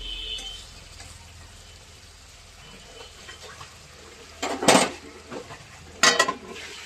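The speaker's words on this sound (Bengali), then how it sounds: "এবার চাপা দিয়ে দেবো" A lid is set on a pot of rice cooking on the stove, with two sharp metallic clanks near the end after a quiet, low simmering background.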